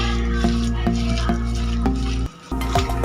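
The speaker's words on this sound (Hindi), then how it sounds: "जो बैटर बच गया है उसमें जो प्याज काटी थी वो, आलू, पालक, हरी मिर्च और हरा धनिया डाल के अच्छी तरह मिक्स करेंगे।" Thick pakora batter being mixed with onion, potato, spinach, green chillies and coriander, a steady run of soft scraping strokes repeating at an even pace up close.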